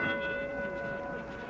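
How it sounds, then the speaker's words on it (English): A boxing ring bell rings out to start round 4 of the 1960 Floyd Patterson vs Ingemar Johansson rematch, a sustained metallic ring with a lingering tone over a murmuring arena crowd. "Bell for the 4th"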